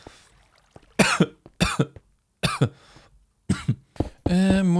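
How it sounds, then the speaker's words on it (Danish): Ellie, a Minecraft character, coughs in five or six sharp, separate bursts spaced about half a second apart, loud and close, ending in a longer strained, voiced cough. "Ellie begynder at hoste"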